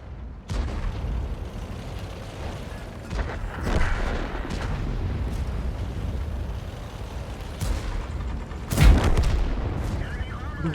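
Tank cannon fire and battle noise in War Thunder while playing a Panzer IV, with distant booms through a rumbling backdrop and one loud, close blast near the end.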